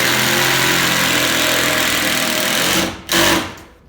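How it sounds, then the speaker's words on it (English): A screw gun drives screws through a glued subfloor sheet into the floor joists of an upstairs master bedroom, a loud steady whirring drone that breaks off briefly near the end before a short final burst. "now he's screwing into those joists"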